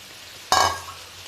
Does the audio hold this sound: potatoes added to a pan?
yes